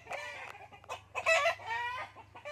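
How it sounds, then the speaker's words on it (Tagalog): Angry chickens cluck and squawk at a person nearby in a rapid, uneven series of calls at close range, with low background hum beneath them and no speech. "Nagagalit yung manok. May tao daw."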